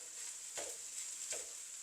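Prawn fried rice, Sri Lankan style, stirred and mixed in a pan, with soft scraping strokes at a steady pace over a constant gentle sizzle. Close and quiet, with no talking.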